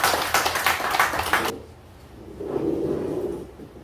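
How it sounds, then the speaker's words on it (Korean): Loud applause from a crowd welcoming a local politician at a neighborhood office opening ceremony in Busan, dense clapping that stops abruptly after about a second and a half, followed by quieter room sound. "박수로 환영해 주십시오"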